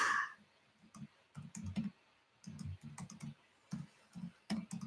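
Typing on a computer keyboard during a livestream, with clusters of soft, close key clicks arriving in short bursts separated by brief pauses.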